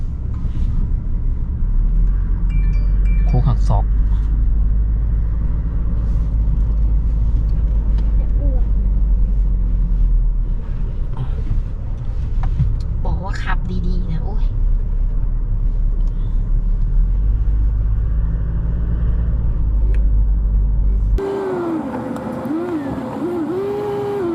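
A car heads downhill on a winding mountain road at Doi Khun Sathan in Nan province, in S3 gear at about 40 km/h. Its low engine rumble runs steady under a voice, and the tone shifts near the end.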